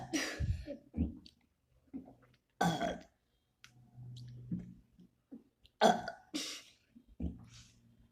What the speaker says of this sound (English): I haven't tried the 5 minute burping challenge, so I'm gonna try doing that.